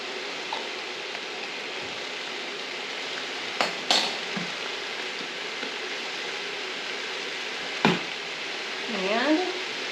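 Ground beef and minced garlic fry quietly in a pan with a steady, soft sizzle, broken by a few sharp clicks and scrapes of a utensil and a brief whistle-like squeak near the end.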